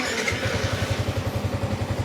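Sniper 155 motorcycle engine running after start-up, a steady close pulsing idle with an even rhythmic thump throughout.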